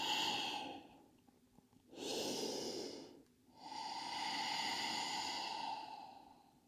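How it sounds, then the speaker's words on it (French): Slow, deep Ujjayi breaths during a hip-opening yoga session, heard close and alone: a long airy inhale, a pause, then a drawn-out exhale, steady and unhurried. "gardez la respiration Ujjayi"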